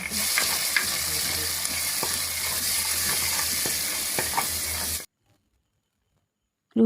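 Dried chillies, onions and curry leaves fry in a pan for a village-style Sri Lankan potato (kiri ala) curry, giving a steady close sizzle with scraping stirs and clinks. After five seconds it cuts to near silence before a sudden loud return.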